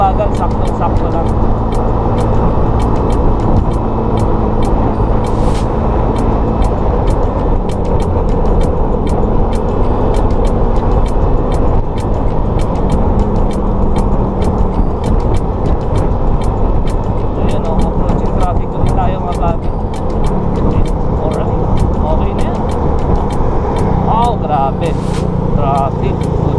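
Dense, heavy road traffic with cars, trucks and buses passes close around a Mio Soul i 115cc scooter-style motorcycle, a steady loud roar throughout under frequent talking.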